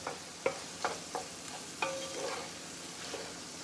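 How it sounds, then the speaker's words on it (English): Minced garlic for a Louisiana gumbo sizzling gently in a pot over medium heat, with a soft continuous fry broken by several distinct scraping strokes of a stirring utensil, close and moderately quiet. "I'm using 2 heaping tablespoons of minced garlic. And we're going to let that bloom, cook a little bit."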